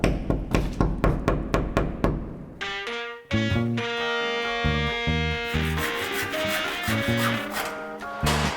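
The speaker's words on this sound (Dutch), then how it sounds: "Hier is een hamer." Repeated sharp hammer blows struck close by, a steady run of loud impacts, then musical tones overlap the later strikes as artists work in the catacomb of the Schunk Glaspaleis.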